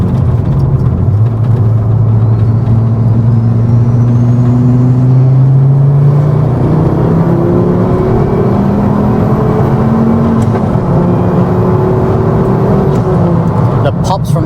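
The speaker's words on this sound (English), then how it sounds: "The pops from the exhaust though are crazy today." A Ford Focus ST225 drives with its turbocharged engine and loud exhaust droning steadily up close, the pitch climbing and dropping through gear changes.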